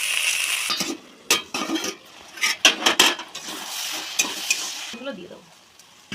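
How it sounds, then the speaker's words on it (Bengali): Beet greens frying in a pan: a steady sizzle broken by repeated sharp scrapes and clinks of a utensil stirring against the metal, close up. "শাকগুলো দিয়ে ভালো করে ভেজে নেবো।"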